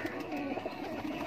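Laal Pari breed pigeon giving a low, soft coo, brief and close, with a faint murmur of voices in the background.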